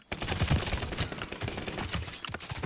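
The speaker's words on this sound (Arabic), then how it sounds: "هذه كل الطلقات هذه ولا مات؟" Rapid gunfire from the Call of Duty: Vanguard video game, dense crackling bursts of shots rattling steadily throughout, loud and continuous.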